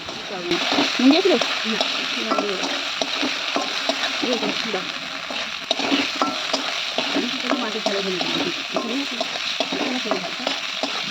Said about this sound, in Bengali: তেলের মধ্যে মশলাটা ভালোভাবে ভেজে নিয়ে